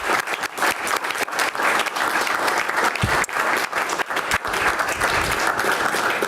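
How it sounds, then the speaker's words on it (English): Loud, sustained applause from an audience at a city commission meeting, honoring the police department. The dense clapping runs steadily for about six seconds without letting up. "So let's give a round of applause to our police department."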